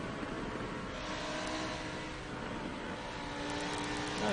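GT3 race cars lapping the Spa circuit in a racing video game, with a steady, dense engine drone that holds throughout and swells slightly at the end.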